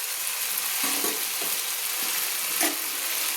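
Prawns and green peas fry with spices in a pan for a cabbage and prawn dish, giving a steady close hiss of sizzling with a few soft scraping stir strokes.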